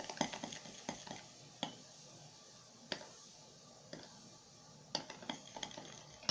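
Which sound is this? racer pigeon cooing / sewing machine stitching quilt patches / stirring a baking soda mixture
stirring a baking soda mixture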